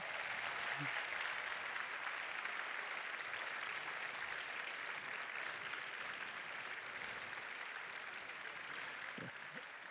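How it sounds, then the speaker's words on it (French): Graduates at a business school diploma ceremony stand and applaud their companions and professors, a steady wash of clapping from a large room heard at moderate distance, with faint voices under it. "les diplômés se lèvent également et applaudissent l'ensemble des accompagnants et des professeurs qui sont présents"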